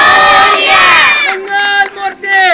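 Crowd at a Home Minister women's game show event in Santoshi Nagar cheers and shouts loudly in a sustained roar, with scattered clapping mixed into the noise.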